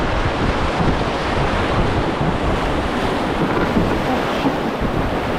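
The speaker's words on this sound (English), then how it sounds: "Now we've got a few cheeky little rapids that we're going to be running back to the valley." A canoe running small whitewater rapids on an Australian wilderness river, heard as a loud, continuous rush of churning water mixed with buffeting wind noise on the microphone.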